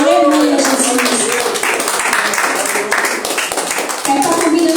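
Church congregation clapping together steadily through a worship service, a dense rhythmic patter of many hands with voices and singing mixed in, loud and continuous throughout.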